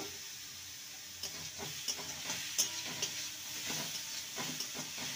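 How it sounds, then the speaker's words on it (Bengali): Grated carrot and potato frying and being stirred in a pan for a carrot-stuffed chapati filling, a steady soft sizzle broken by scattered scraping stir strokes, close and fairly quiet, no talk. "এবারে গ্রেট করা রাখা গাজর আর আলুকে দিয়ে দেবো। ভালো করে নেড়ে নেব।"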